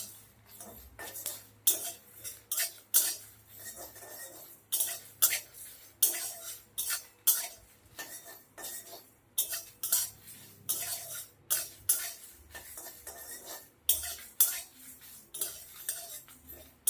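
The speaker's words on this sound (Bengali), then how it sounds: "সমানে নেড়ে নেড়ে ভেজে নিতে হবে।" Spices for a sweet, sour and spicy mango pickle stirred in a pan with a metal spoon, giving repeated clinking scrapes in a steady rhythm, close and fairly clear, with no voices.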